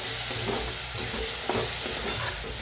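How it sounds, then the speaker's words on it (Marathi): Moth bean dal roasting and being stirred in a tempering pan with ridge gourd nearby, a close, continuous frying sizzle broken by repeated scraping stirs of a spoon. "मटकीची डाळ बी जरा भाजून घ्यायची म्हणजे खूप छान लागते चव त्याला जरा भाजूया"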